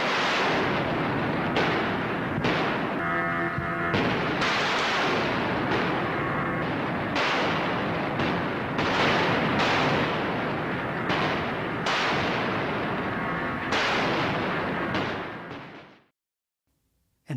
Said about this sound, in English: the Navy saw the island as something else, an ideal target for gunnery practice